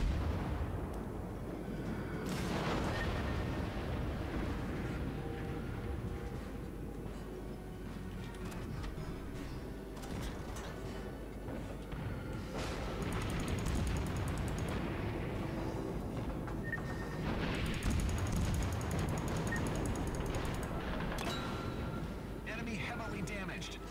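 Naval artillery thunders repeatedly in a World of Warships battle, heavy booms and rumbling water impacts swelling and fading under a continuous game soundscape, with someone talking excitedly over the action.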